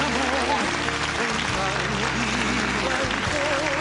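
Audience applause at a party during a live tango-themed variety show, a dense, steady wash of clapping from a crowd that fills the whole stretch, with music and low tones running underneath.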